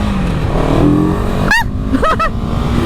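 A 2023 CFMOTO 700 CL-X motorcycle pulls away after a quick clutch release, its engine revving up loud and close in a couple of short rising bursts over a steady rumble.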